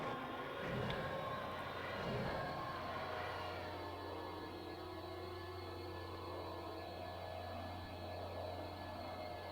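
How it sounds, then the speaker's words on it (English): Bomber aircraft in Star Wars Battlefront II (2005, PC) drones with a steady engine hum and a whining, siren-like tone, loud and continuous with small swells throughout. "Alright, I'm getting a bomber."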